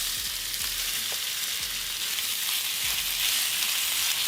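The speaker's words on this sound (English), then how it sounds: "you're going to add your beef, and you're going to sear for a good 3 to 4 minutes" Beef chunks searing in a hot cast iron pan with olive oil for a Mexican-style stew, giving a steady, close sizzle and crackle with a few soft pops, no voices.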